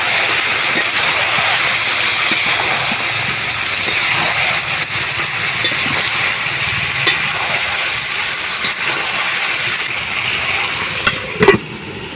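Chicken with malabar spinach stems and potato is stir-fried in a pan, giving a loud, continuous sizzle with scraping stirs throughout and a brief clatter near the end.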